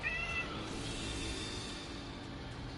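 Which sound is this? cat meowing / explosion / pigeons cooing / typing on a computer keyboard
cat meowing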